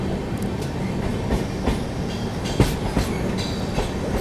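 The Tamil Nadu Superfast Express rolls through a curve, its carriages rumbling continuously with steady clickety-clack from the wheels over rail joints, heard from on board.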